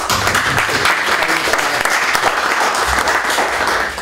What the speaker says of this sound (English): so a big applause for him